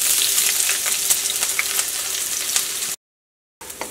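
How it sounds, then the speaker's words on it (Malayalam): Onions, ginger and green chillies fry in hot oil with a loud, close, crackling sizzle, briefly cut to silence and then resuming. "ഇപ്പോൾ നമ്മുടെ സവോള നന്നായിട്ടൊന്ന് സോഫ്റ്റായിട്ട് ചെറുതായിട്ടൊന്ന് മുരിഞ്ഞു വന്ന് തുടങ്ങിയിട്ടുണ്ട്"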